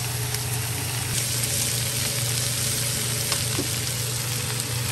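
Long beans stir-frying with oyster sauce in an uncovered pan, giving a steady, continuous sizzle with faint clinks of a utensil, close and unbroken throughout.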